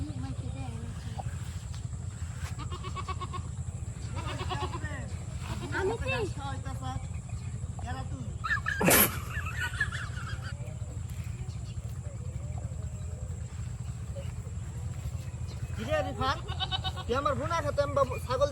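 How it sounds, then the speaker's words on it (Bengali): A goat grazing in a field bleats a few times, the calls moderate and partly masked by frequent nearby talking over a steady low rumble. "আমার ছাগল অন্য খেতে ঘাস খাওয়া"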